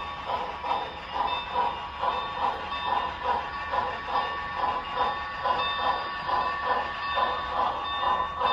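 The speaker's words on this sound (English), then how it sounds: "I'm gonna guess that this Northern Pacific train is a westbound" An HO scale Northern Pacific model train runs steadily along the track with a regular clicking rhythm and a faint whine, moderately quiet, with no talking.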